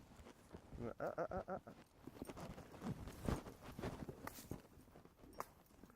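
Rhythmic clip-clop of an older horse's hooves on the ground, fairly close and quiet, with a soft voice speaking over the footfalls.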